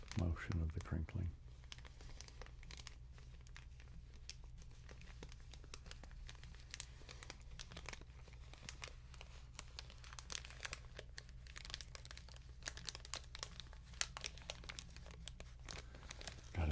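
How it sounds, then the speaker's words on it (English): Crinkly material is crumpled and moved in the space between microphones, giving faint, scattered crackling transients that come and go irregularly, with brief talk at the very start. "can have some crinkling with some motion of the crinkling."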